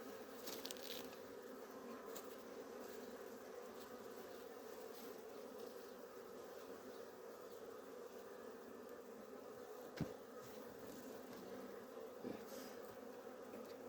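Honeybees drone steadily in a freshly opened hive, a dense continuous buzz with one sharp knock near the end.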